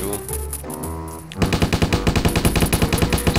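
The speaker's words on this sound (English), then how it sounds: "See, now I'm shooting people." Rapid machine gun fire rattles in the Stubbs the Zombie video game, a tight rhythmic burst of shots that kicks in partway through after a quieter game soundscape, loud and close.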